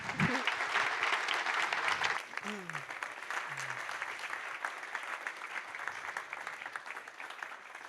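After a talk at a Speck&Tech meetup, an audience claps warmly for several seconds, fairly quiet and steady, while a few brief voices sound over the start.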